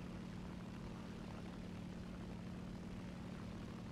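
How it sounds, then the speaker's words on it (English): Propeller airplane from a WWII video game droning overhead, a steady, continuous low engine hum with broadband noise, moderately loud and alone. "Oh, we got airplane in."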